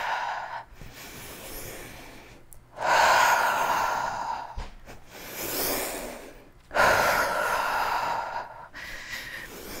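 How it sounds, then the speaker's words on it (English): Heavy rhythmic breathing during an upper-body dumbbell and band workout: several loud, close inhales and exhales come in bursts with short pauses between them. "Coordinate your breathing. You hear it, right?"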